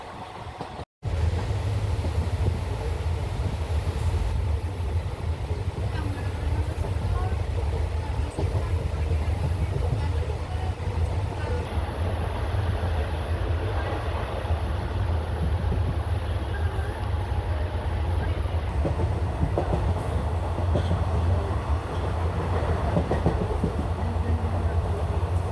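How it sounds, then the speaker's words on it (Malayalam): Velankanni Express diesel train rolling into Sasthamkotta station, heard from on board as a steady, loud low rumble of wheels and running gear that continues without a break. "ട്രെയിൻ അങ്ങനെ എനിക്ക് ഇറങ്ങാനുള്ള ശാസ്താംകോട്ട റെയിൽവേ സ്റ്റേഷനിലേക്ക് കയറിക്കൊണ്ടിരിക്കുകയാണ്."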